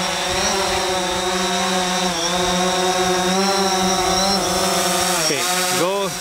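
Drone motors spinning up for an automatic takeoff, a loud steady multi-rotor whine with rising and wavering pitch, sweeping sharply near the end as the craft lifts off.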